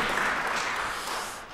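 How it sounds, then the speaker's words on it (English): An audience at a Board of Deputies address claps in a brief, dense burst of applause that fades slightly toward the end. "I'm going to clap that."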